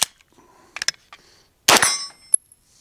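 A single loud report from a Springfield Kuna pistol firing its last round, followed by metallic clinks and a faint ringing tail, with a few small handling clicks before the shot.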